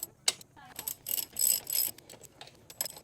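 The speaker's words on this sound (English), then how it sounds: "First thing I'm going to do is I'm going to pull the axle, loosen that up." A ratchet wrench loosens the rear axle nut on a Honda Grom motorcycle, giving several close bursts of quick clicking and metallic ratcheting with brief pauses between pulls.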